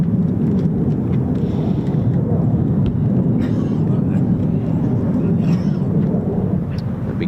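F-15E Strike Eagles and F-35A fighter jets depart from RAF Lakenheath with a heavy, continuous low roar, steady and distant, while a person talks over it.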